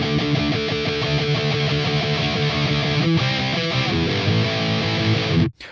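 Distorted electric guitar drives through the main riff of a song at full tempo, a dense, loud, continuous wall of chugging palm-muted chords that stops abruptly at the end.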